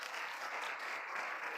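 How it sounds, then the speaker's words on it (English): Audience at a conference opening ceremony applauding as children enter, a steady wash of distant clapping throughout. "can we please clap our hands for them?"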